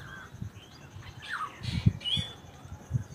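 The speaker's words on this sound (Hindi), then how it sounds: "चिड़िया की आवाज कहाँ से आ रही है?" Small birds near their nest with an egg give several high, quick chirps and tweets at close range, over a low background of indoor noises.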